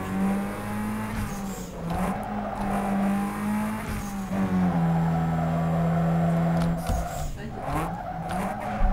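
Race car engine roaring through a race in the video game NFS Underground 2, steady and loud with shifting revs, gear changes and tire skids layered throughout.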